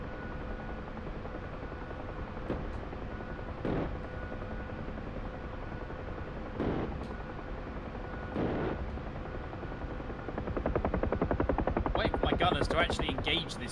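Helicopter door gunner firing a machine gun in a video game, with a steady rotor drone underneath. Several short bursts ring out at intervals, then a sustained rattling stream of fire near the end.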